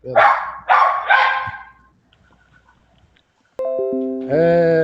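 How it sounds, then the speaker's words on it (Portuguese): Pet dog, a female, letting out three loud, close barks in a row, followed by a pause and then a sustained tonal whine or electronic-sounding tone. "A minha cachorra não para de latir."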